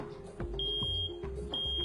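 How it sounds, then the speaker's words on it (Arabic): A smoke detector alarm sounds a series of short, loud, high-pitched electronic beeps, repeating in a steady pulsing rhythm close by. "لتطلق جرس إنذار مرتفع الصوت من شأنه إيقاظ السكان النائمين"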